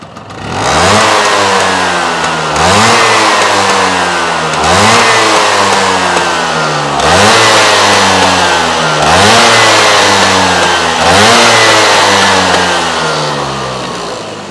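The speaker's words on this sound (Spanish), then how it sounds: "Escuchar estos golpes que da el motor, que hace pom, pom, pom" A Vespa T5 scooter engine suffering self-detonation revs repeatedly, rising in about six loud, close surges with a rough, knocking undertone, each pull of the throttle followed by a brief drop.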